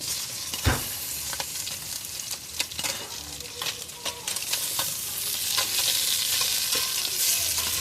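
Tomatoes hitting a pan of sautéing mung beans for ginisang monggo, with a sharp sizzle burst early, then steady close frying hiss and scattered stirring clicks that grow slightly louder toward the end; no one speaks.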